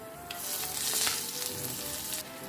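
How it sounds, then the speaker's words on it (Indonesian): Curry leaves hit hot oil with chili, turmeric, asafoetida and salt, giving a steady, close hiss of sizzling that crackles briefly louder in the middle, with no talk. "Aku tambahin daun kari."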